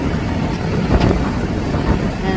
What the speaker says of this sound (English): And it's very windy out here,